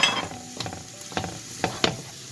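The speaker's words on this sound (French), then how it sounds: "je fais revenir. J'ajoute mon ail" Crushed garlic and onion sautéing in a pan, a soft sizzle broken by several sharp scraping and clinking strokes of stirring, close and fairly loud.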